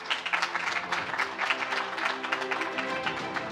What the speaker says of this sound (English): On peut encore une fois applaudir Monsieur Safi.